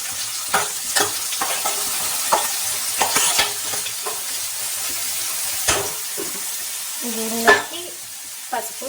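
Tomatoes and onions simmering in a pan for a cauliflower tomato curry, with steady soft sizzling and occasional stirring scrapes and clinks at close range.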